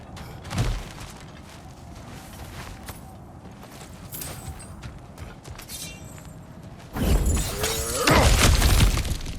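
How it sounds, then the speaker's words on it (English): Kratos smashing through cracked ground in God of War Ragnarök, a sudden loud crash and rumbling break of rock late on, preceded by quieter footsteps and ambient game sound, no talking. "I'm smashing through things for fun and profit."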